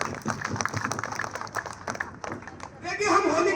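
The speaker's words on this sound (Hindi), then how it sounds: "उन सबके लिए आप एक बार जोरदार तालियां बजाइए और मैं भी बजाऊंगा" An audience claps at a Holi celebration gathering, with irregular clapping mixed with voices at first, then swelling into a louder, denser burst of applause near the end.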